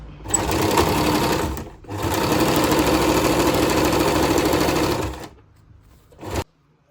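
A sewing machine stitches through the centre of a churidar pant in two loud, steady bursts separated by a brief pause, then stops with a short final run.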